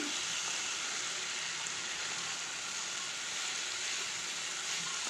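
Vegetables cooking in an uncovered pan for chitta dal, giving a steady dense sizzle and hiss throughout, close and even, with no talking.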